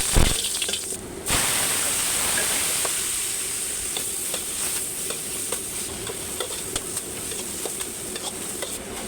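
Food frying in oil with ground pepper while being stirred in a pan, a loud steady sizzle close by with light scraping stir sounds and one sharp clatter near the start, no talking.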